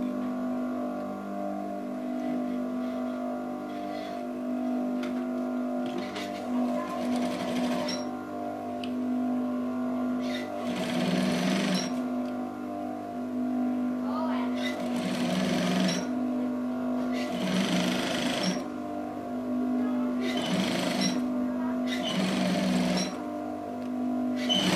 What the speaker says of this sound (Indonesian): Nah, ini akan saya obras dulu bawahnya.